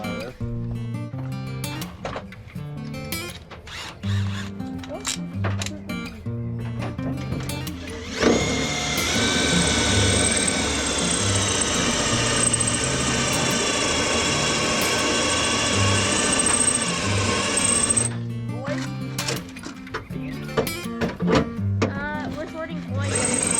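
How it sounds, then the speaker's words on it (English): A power drill whirs continuously for roughly ten seconds while taking out a car door window mechanism during a Hudson Hornet race car build, a fairly loud, steady whine with background noise and people talking around it. "let me get a drill, we'll get that mechanical out of there."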